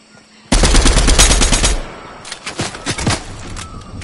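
Rapid automatic gunfire rattles loudly through a console shooter, a dense sustained burst followed by scattered shots that trail off, with no voices over it.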